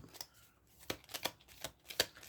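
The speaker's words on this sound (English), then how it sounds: "Which means I can shuffle these" A deck of playing cards being shuffled by hand, several crisp riffling bursts in quick irregular succession, close and fairly soft, with no talking.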